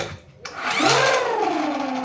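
A small electric motor whirs up, its pitch rising and then settling into a steady high buzzing whine, like a toy race car revving.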